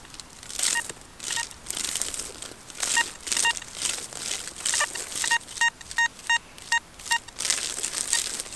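Metal detector sounding over a buried target while hunting medieval coins, short repeated high beeping tones pulsing among crunchy rustling and scraping of ground and handling noise, close by.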